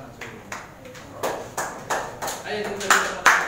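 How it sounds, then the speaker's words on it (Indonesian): Classroom applause for a student group that has just presented, heard as scattered, uneven claps from several people, with louder bursts toward the end and a light murmur of voices underneath. "beri tepuk tangan pada kelompok yang sudah maju"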